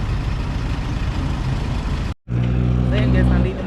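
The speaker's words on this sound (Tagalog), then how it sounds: "Sakay na din ako ng tricycle." A tricycle's motor rumbles low and steady during a ride, briefly cutting out before returning louder with road noise, while a person talks over it.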